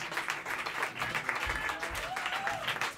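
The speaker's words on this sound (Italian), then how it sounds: "Un applauso a Matteo, detto Matt Walden." An audience gives a short burst of applause at an Italian stage show, many hands clapping steadily for about three seconds with faint voices mixed in.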